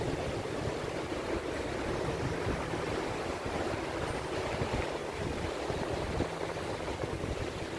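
Calm sea waves wash onto a quiet, uncrowded beach at Ganpatipule, a steady low surf roar mixed with wind buffeting the microphone, continuous and fairly faint with no voices.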